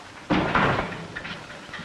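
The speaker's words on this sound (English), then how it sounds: "Shut the door, Tom." A door in an old western film is pushed shut with a single dull thud, followed by a short muffled rattle and faint room noise.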